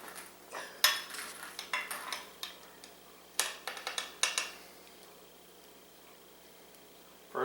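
A piece of garlic bread being dug out of a one-pot meatball pasta pan onto a plate, with a string of sharp metallic scrapes and clinks in irregular bursts, then a quieter pause before one final clink.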